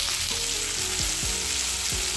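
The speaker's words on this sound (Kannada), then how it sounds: "ಟೊಮೊಟೊ ಸಾಫ್ಟ್ ಆಗೋವರೆಗೂ ನಾವು ಹುರ್ಕೋಬೇಕಾಗುತ್ತೆ." Chopped tomatoes frying in a pan for capsicum rice make a loud, close, continuous sizzle, with a few soft scrapes of stirring breaking in now and then.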